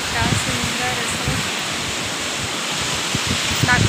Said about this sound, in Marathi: आता इकडे समुद्र असं सुंदर निळाशार समुद्र